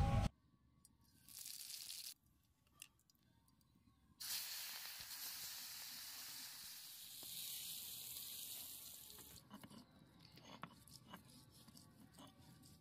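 Fish sizzles and hisses in hot oil in a wok, the frying steady and fairly quiet, with a louder burst of spitting in the middle before it settles again.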